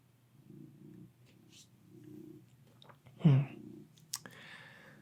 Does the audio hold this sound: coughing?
no